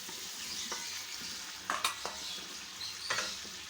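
Taro (arvi) pieces fry and sizzle with tomato and onion in a pan for arvi gosht, a steady close hiss broken by a few scraping stirs.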